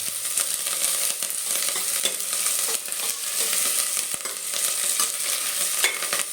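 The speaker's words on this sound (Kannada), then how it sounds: "ಕರಿಬೇವು ಮತ್ತು ಈರುಳ್ಳಿ ಎರಡನ್ನೂ ಒಂದೇ ಕಡೆ ಹಾಕ್ತಾಯಿದ್ದೀವಿ. ಇದು ಸ್ವಲ್ಪ ಕೆಂಪಾಗೋ ತನಕ ಹುರ್ಕೋಬೇಕಾಗುತ್ತೆ." Curry leaves and onion fried together in a pan for a village-style field bean sambar, a dense, steady sizzle with occasional stirring clicks, close and even, with no talk.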